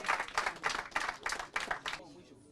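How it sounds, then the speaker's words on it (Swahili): Short burst of clapping from an audience at a tree-planting gathering, honouring the coaches; a handful of hands beat in uneven pulses before fading out after about two seconds. "Wapi makofi ya coaches?"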